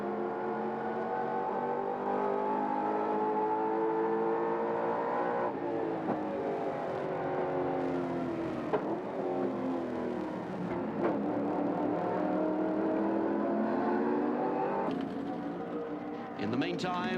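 Holden Commodore race car laps Mount Panorama in traffic during the 1990 Tooheys 1000, its engine droning loudly with rising and falling revs and gear changes, under continuous commentary.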